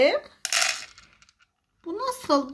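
A quick rattling clatter of corn kernels spilling into a small toy pot, between bits of a child's chatter.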